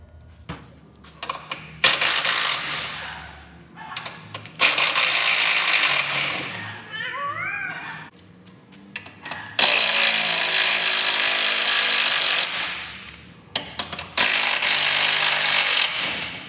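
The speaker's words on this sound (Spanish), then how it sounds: "vamos a quitar los dos tornillos aquí, los dos tornillos allá, para poder hacer el cambio. Vamos a hacer con un dado 15" A socket ratchet with a 15 mm socket works bolts loose on a Jeep JL during a lift kit install, sounding as loud bursts of rapid clicking repeated several times with quiet pauses and tool clatter between.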